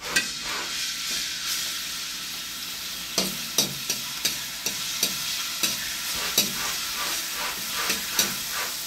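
Garlic sizzles and fries in hot cooking oil in a heated pan, a steady close hiss broken by a run of sharp stirring scrapes and clacks in the second half, with no talking.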